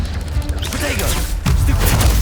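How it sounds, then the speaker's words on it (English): Casting the Incendio fire spell in Hogwarts Legacy sets off a sudden booming whoosh of flame that sustains loudly over game noise, with a voice speaking just before it. "Incendio."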